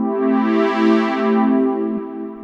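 A smooth, unprocessed synth pad for a slow R&B beat holds a sustained chord on its own, swelling gently and then easing off near the end.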